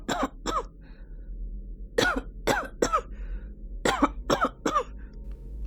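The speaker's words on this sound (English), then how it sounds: "How long have you had that cough?" A human voice acts out a man's harsh, hacking cough in a damp wine cellar, coming in short sharp bursts in three clusters, close and fairly loud.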